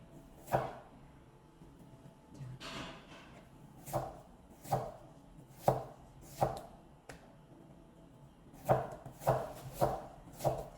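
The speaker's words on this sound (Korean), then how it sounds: "얇게 그대로 밀어서 썰도록 하겠습니다" Radish for musaengchae is sliced thinly with a knife pushed forward on a cutting board, giving a series of crisp, close knocks at irregular intervals, some in quick clusters, with no talking.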